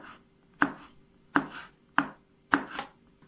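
A knife cuts a small hot chili pepper into rings with four distinct, evenly spaced chops, close up and alone, with no voices.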